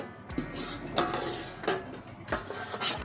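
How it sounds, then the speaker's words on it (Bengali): A metal lid lifted off a pot of rasmalai simmering on a gas stove, giving several clinking, scraping metallic knocks of pot and cookware at close range with no talking. "পাঁচ মিনিট হয়ে গেছে চাপাটা খুলছি"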